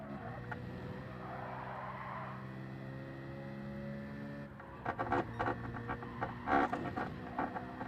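A Gran Turismo 7 race car at Blue Moon Bay holds a steady engine drone, then brakes hard with tire squeal and skidding noise in the last few seconds, moderately loud against a busy track background.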